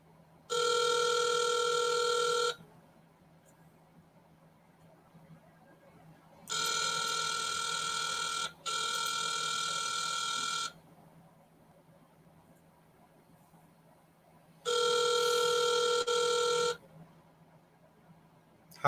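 An outgoing telephone call rings unanswered, three loud, steady ring bursts of about two seconds each (one briefly doubled), separated by longer quiet gaps of faint line hiss.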